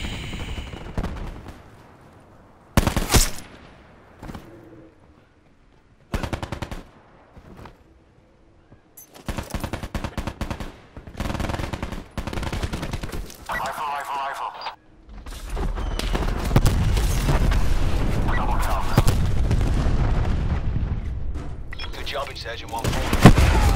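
Video game gunfire comes in sharp bursts with quiet gaps, followed by a sustained loud stretch of shooting and explosive rumble as a rocket is fired, heard close and alone.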